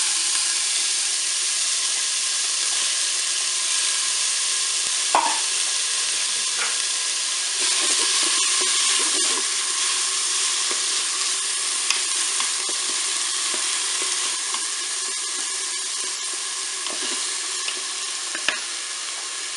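Onions sizzle and fry in a Cookeo multicooker pot, producing a continuous loud hiss with occasional stirring scrapes and small pops, and no talking.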